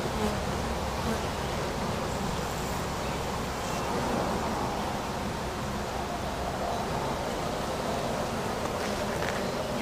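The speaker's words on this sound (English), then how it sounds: "I don't want to smoke these bees right now." Honeybees buzz steadily and densely around an opened hive, a continuous close swarm drone filling the whole stretch with no talk.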